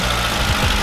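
Old Zhiguli car engine running at idle just after starting, a loud, close, steady low rumble with rough knocking pulses.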